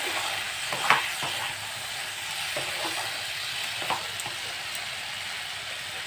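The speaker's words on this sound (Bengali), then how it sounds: "ঝিঙে আলু পোস্ত বসানো হয়ে গেল আমার।" A curry of ridge gourd, potato and ground poppy seed paste cooks in a pan with a soft, steady sizzle, with a few faint clicks and stirring touches.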